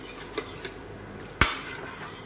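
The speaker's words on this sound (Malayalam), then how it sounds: "കൈ വിടാതെ ഇളക്കി കൊടുക്കുക" A spoon stirs watermelon jelly mixture in a pot on the stove, making quiet scraping and one sharp metallic clink against the side amid soft background noise.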